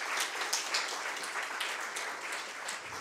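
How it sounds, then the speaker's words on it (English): Sustained audience applause, a dense wash of many hands clapping steadily for the full length, fairly loud and without any talking. "May we please have a round of applause to appreciate their effort."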